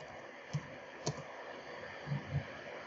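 Several soft computer keyboard key clicks, spaced irregularly and faint against a quiet background hum, with no voices.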